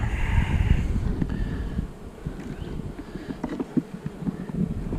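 A honeybee colony in a nuc box hums with a steady insect buzz, mixed with wind rumble and handling noise close to the microphone.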